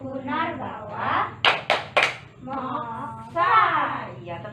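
Children clap their hands together in the Pancasrada clap game, a few sharp claps in a quick row set between stretches of a speaking voice.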